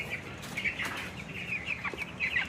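Broiler chickens in a modern farming setup give repeated chirps and soft clucks against a steady low background hum, with no talk.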